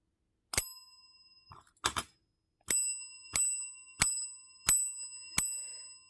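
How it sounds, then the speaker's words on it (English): A bell rings five separate times at a steady, unhurried pace, each strike bright and ringing out clearly before the next, loud and close in an otherwise quiet room. "5 bell rings."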